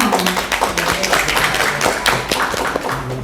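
A crowd claps steadily at a press conference, a dense wash of many hands applauding throughout, with a voice faintly audible beneath.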